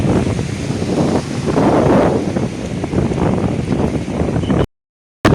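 Wind buffets the microphone in steady loud gusts outdoors near the sea, a broad rumbling roar that runs continuously before cutting to silence near the end.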